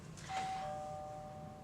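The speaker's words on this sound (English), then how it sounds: "I think the doorbell's ringing." A single electronic doorbell chime rings out clearly in a medical examination setting, one sustained bright tone that lingers and slowly fades, with no talking over it.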